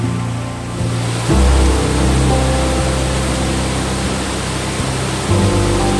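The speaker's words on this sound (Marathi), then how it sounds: "हा पाण्याचा प्रवाह प्रतापगडच्या व सह्याद्रीच्या कडे कपारीतून येत असतो" A stream fed by many mountain springs from the Sahyadri cliffs near Pratapgad rushes in a loud, steady broadband wash, constant and close with a few low thumps.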